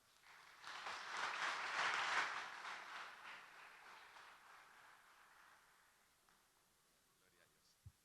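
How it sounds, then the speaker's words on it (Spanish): Church congregation applauding during a Spanish-language service, a dense wash of clapping that swells over the first two seconds, then gradually thins and fades, ending with a single sharp knock. "Dar un aplauso al Señor."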